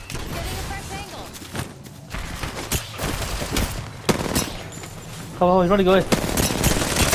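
Fast bursts of automatic gunfire rattle through a video game match, loud and near, alongside other game noises, while a player talks excitedly over the shooting.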